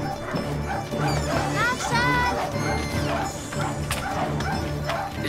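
Dog barks and yelps mixed with whining, heard under overlapping voices talking, fairly loud and close.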